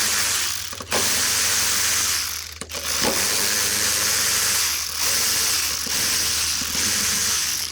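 Tool loosening M10 bolts on the cover of a 2006 Suzuki DF2.5 four-stroke outboard engine, close rapid ratcheting clicks in steady bursts with short pauses between bolts.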